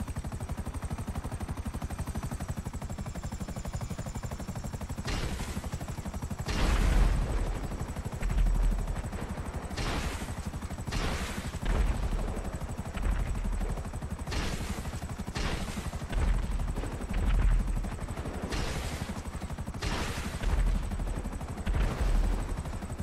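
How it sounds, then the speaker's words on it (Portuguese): A helicopter in the GTA V Online video game drones continuously with a steady rotor whir, while loud bursts of gunfire break in repeatedly and unevenly. "Peguei o helicóptero, já era."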